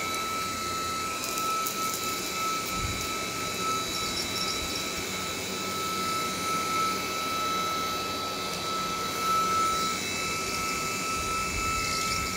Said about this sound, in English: Again, it's sucking up debris.